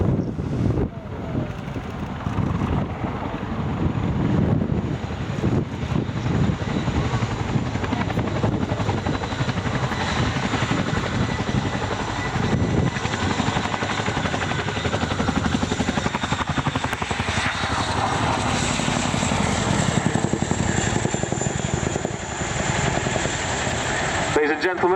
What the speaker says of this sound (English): it can reverse down the runway on just its back wheels